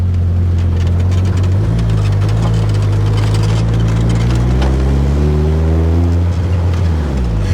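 Engine of a modified 1982 Toyota Corolla droning steadily at low revs while driving and turning, then revving up in pitch near the end before easing back down, close and continuous.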